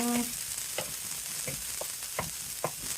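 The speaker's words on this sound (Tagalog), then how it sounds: "Luto, luto po tayo ng ampalaya" Bitter gourd (ampalaya) cooks in a pan, giving a steady low sizzle with several short stirring scrapes spaced about half a second apart, close and moderately loud, with no talking.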